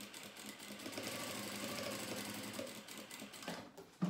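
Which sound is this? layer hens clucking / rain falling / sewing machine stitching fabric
sewing machine stitching fabric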